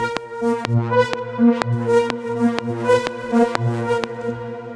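Melodic techno synth loop run through a vocoder with only a few bands and a touch of added high end, producing buzzy, harmonically rich chords pulsing in a steady rhythmic pattern, loud and upfront, no voices.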